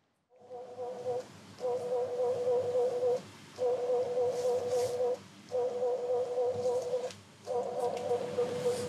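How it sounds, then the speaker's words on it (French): Recorded bee buzzing played back to flower petals: a steady mid-pitched drone sounding in four or five long bursts separated by brief gaps, fairly loud and close, with no talk. "Comment les pétales vont-ils réagir au son des abeilles?"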